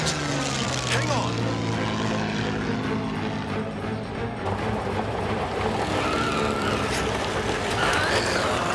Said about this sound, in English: I have lost control of the plane now.